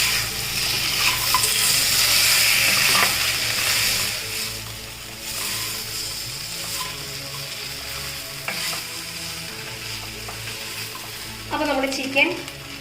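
Chicken 65 is stirred in hot oil with curry leaves, garlic and green chillies, giving a loud, steady sizzle broken by scraping strokes. A brief voice-like tone rises near the end.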